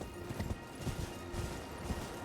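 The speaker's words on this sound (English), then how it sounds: "I definitely called my horse." A horse in Elden Ring trots with steady, evenly spaced hoof clip-clops, moderately quiet over a low ambient game backdrop, no voices present.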